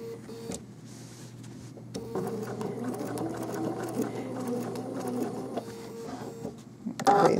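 A sewing machine stitches a quilt applique outline for a fake trapunto effect, running a steady, close, mechanical whirring needle rhythm with brief pauses and a sharper click near the end, with no talking.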